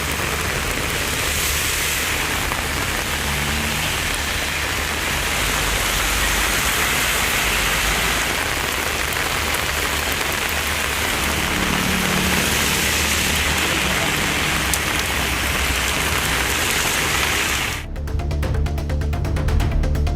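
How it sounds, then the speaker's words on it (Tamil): Moderate rain falls steadily in Kodaikanal as a dense, even hiss, with faint traffic rumbling underneath and a brief change in texture near the end. "நகரின் பல்வேறு பகுதிகளில் 1 மணி நேரத்திற்கும் மேலாக மிதமான மழை பெய்தது"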